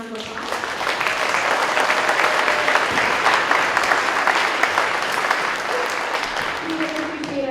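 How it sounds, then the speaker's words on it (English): Warm audience applause at a school band concert for a sixth-grade band, a loud, dense and steady clapping that holds for several seconds, with a few voices near the end. "so if we could please give her a warm round of applause."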